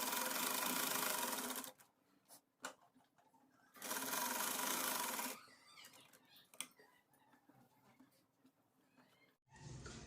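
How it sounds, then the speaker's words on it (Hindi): A sewing machine stitches the neckline of a suit in two long, steady runs of rapid mechanical whirring, separated and followed by quieter clicks and handling noises, with a final short burst at the end. "अब इसे हम इस तरह से रखते हुए 1/2 इंच के फासले पे गले पे सिलाई लगा लेंगे।"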